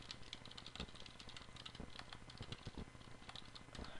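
Fast, continuous typing on a computer keyboard while entering a router configuration, with close, quiet clattering keystrokes and occasional louder taps in an irregular rhythm, no voice.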